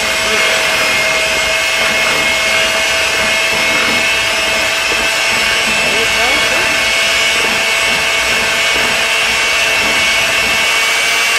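Electric mixer beating cheesecake filling, a loud, close, steady whirring hum that runs without a break throughout.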